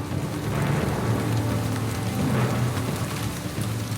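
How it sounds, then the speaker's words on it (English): Heavy rainy-season downpour in a jungle roars as a dense, constant wash of drops drumming nearby, with a low rumble underneath and no voices. "this area of the jungle receives up to 20 inches of rain a month"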